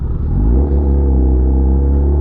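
A Kawasaki ZX10R motorcycle engine idles close by, a loud steady low rumble with a rich harmonic drone, even and continuous, with no talk.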